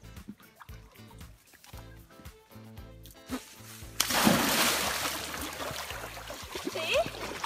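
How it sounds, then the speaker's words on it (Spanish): A person drops from a swing into water outdoors, a sudden full splash followed by sloshing and churning water, preceded by a quieter stretch of soft background music and ambient sound. "Va a mirar que esté todo correcto debajo del agua y se va a tirar."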